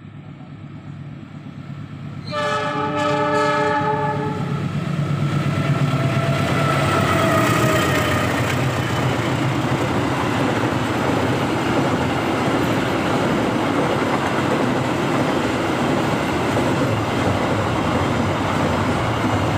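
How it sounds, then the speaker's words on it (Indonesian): A train rumbles past close by at a station in Indonesia, opening with a brief horn blast, then a loud sustained roar and clatter of cars that continues to the end. "ini sepertinya ada kereta mau jalan ya"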